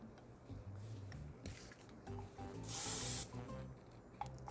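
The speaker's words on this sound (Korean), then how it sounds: "이 잔머리들은 스프레이로" A single short burst of hair spray hisses for about half a second during a hair-styling session, with soft speech around it.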